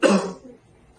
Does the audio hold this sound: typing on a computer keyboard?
no